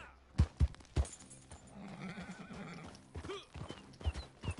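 A horse whinnies in a long wavering call in Red Dead Redemption 2, framed by several sharp hoof clops at the start and end, close and fairly loud.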